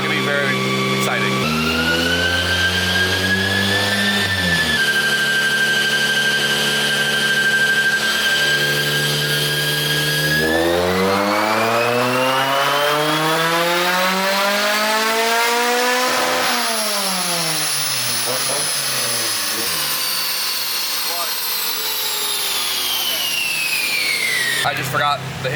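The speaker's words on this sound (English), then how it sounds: "It was a pretty clean first pull for like a first pull." A K24 engine strapped to a dyno revs hard through a pull, its pitch climbing steadily, dropping at a shift, then climbing again to a high, loud scream before it backs off.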